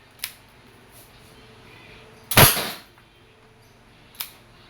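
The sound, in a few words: Wingun 708 airsoft revolver firing steel BBs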